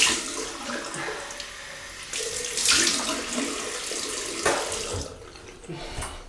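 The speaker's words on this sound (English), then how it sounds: "Cold water rinse again." Tap water runs steadily into a sink, splashing and gurgling, with the flow shifting in strength as something is rinsed under it.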